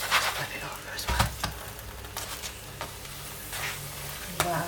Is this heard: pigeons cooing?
no